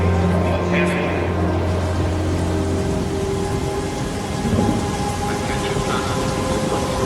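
Heavy rain pours in a dense, constant hiss with a low rumble beneath, steady throughout and loud.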